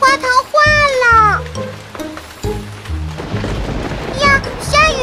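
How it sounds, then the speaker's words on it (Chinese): Cartoon rain and thunder burst in a children's animated show, with a rumbling low crash and steady hiss of rainfall behind high, sung-like cartoon voices and a bouncy musical tone. "呀，下雨了，大家快过来！"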